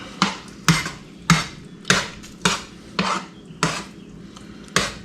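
Ingredients for fish gravy being mixed in a metal pot, with a spoon striking the sides in a steady rhythm of about nine sharp clinks, close and fairly loud.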